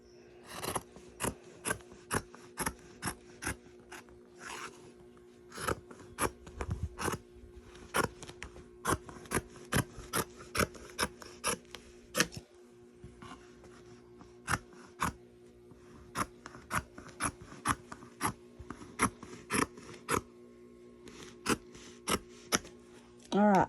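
Scissors cutting fabric for a dining seat cover give a steady series of close, crisp snips and slicing scrapes with a few brief pauses, all fairly loud and without talk.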